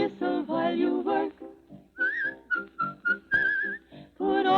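Women sing a tune on an old radio broadcast, then a clear whistled melody carries the tune in short phrases between singing.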